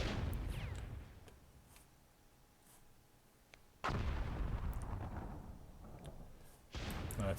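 Missile launches and explosions in the video game Myth II Soulblighter, fired at a hill, come as a series of booming blasts, with sharp loud bursts near the four-second mark and again near the end over a low rumbling background.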